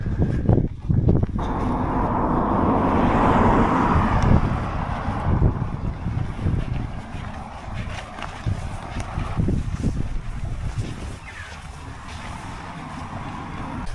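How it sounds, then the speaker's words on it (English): Traffic rushes past on a busy road beside a Scottish loch, with a steady roar of cars and motorbikes close by and wind buffeting the microphone throughout. "You can see a lot of motorbikes going past and cars as well"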